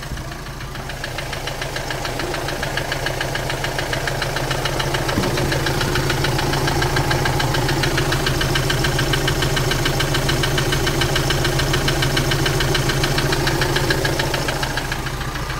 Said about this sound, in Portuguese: Ó, escuta uma batida.